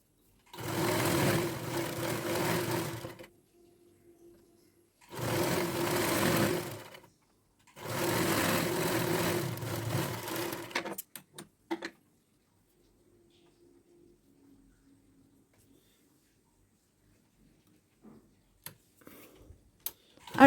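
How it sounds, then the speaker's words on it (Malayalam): A sewing machine stitches twice-folded fabric along the edge of a pillow cover, running in three close, steady bursts of a few seconds each, then stopping; faint ticks and handling noises follow in a quiet room. "ഒന്ന് മടക്കിയതിന് ശേഷം വീണ്ടും ഒന്ന് മടക്കുക. എന്നിട്ട് സ്റ്റിച്ച് ചെയ്ത് കൊടുക്കുക."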